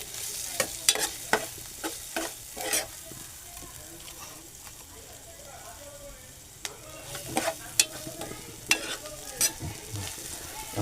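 Onions fry and sizzle softly in a pan while a spoon stirs and scrapes them in quick, irregular strokes, with faint kitchen background and no clear talking.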